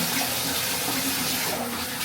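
Running tap water, a loud, steady close splashing stream that pours without a break, with a faint shift in tone near the end.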